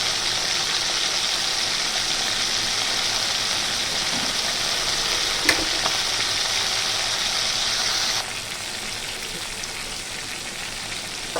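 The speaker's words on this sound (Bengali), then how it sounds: "এখন মাছের নিচের দিকটা হালকাভাবে হয়ে গেছে, খুব কড়া করে ভাজিনি। উল্টো দিকটাও অল্প অল্প করে ভেজে নেব।" Pomfret fish fries in oil in a pan with a steady, even sizzle and no voices. The sizzle drops to a softer level about two-thirds of the way through.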